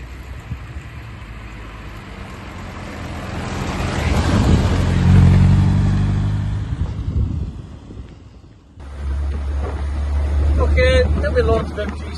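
A 1966 MG Midget MkII on the move, its small engine droning steadily beneath heavy wind buffeting, swelling louder mid-drive, easing off briefly, then returning as a low rumble while someone talks over it.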